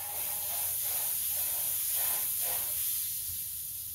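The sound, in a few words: butter sizzling in a very hot frying pan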